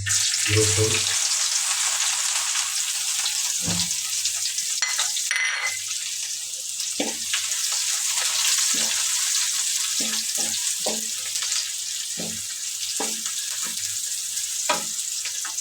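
Garlic-ginger spice paste fries in a little oil for a radish and fish curry. There is a continuous bright sizzle throughout, with scattered scraping stir strokes and a few knocks of the utensil, and no talk.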